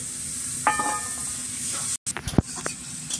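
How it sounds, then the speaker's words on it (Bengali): Minced meat tipped into a pan of fried spiced masala for a village-style meat-stuffed paratha, giving a steady hiss and sizzle after a brief pause, with a few clatters of stirring. "এবারে আমি কুচনো মাংসটা দিয়ে দেব"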